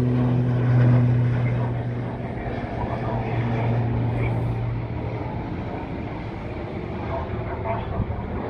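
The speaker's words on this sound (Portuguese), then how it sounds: "mais uma decolagem aqui para você no aeroporto de Sorocaba" A twin-engine airplane takes off at Sorocaba state airport in Brazil, its steady propeller and engine drone loud and sustained, swelling early and then holding, with a strong low hum throughout.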